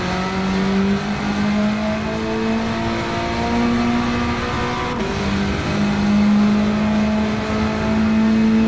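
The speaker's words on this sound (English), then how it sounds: "Floor it onto the straight." A 508-horsepower EK Honda Civic Type R in Gran Turismo 7 revs hard under full throttle, its loud, steady engine drone climbing in pitch, with a brief dip at a gear change partway through.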